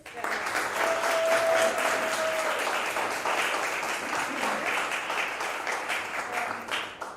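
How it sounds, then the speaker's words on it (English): Sustained applause from an audience at a community artist performance, steady and full for several seconds before gradually tapering off, with a voice heard faintly over it. "we would love to give one more round of applause to all the performers"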